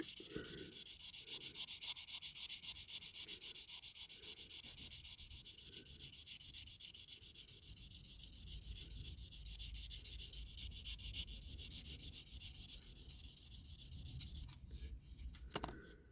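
Sandpaper is worked over a 1957–59 Corgi Toys Standard Vanguard diecast metal toy car to remove scratches. Close, continuous back-and-forth rubbing strokes run throughout, with a few faint knocks near the end and no speech.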